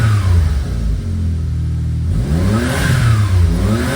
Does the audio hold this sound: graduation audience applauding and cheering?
no